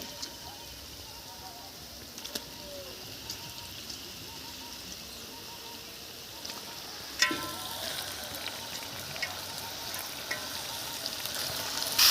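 Chicken pieces sizzle and fry steadily in a hot pan for chicken curry, a continuous crackling hiss with a sharper burst of spitting partway through that stays louder afterward.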